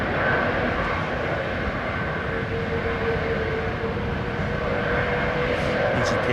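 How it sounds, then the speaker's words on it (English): Large jet airliner with Rolls-Royce Trent 7000 engines taking off from London Heathrow, a steady, loud broadband engine roar that holds throughout, with a voice speaking over it. "see right through those engines, man. Big old set of Trent 7000s."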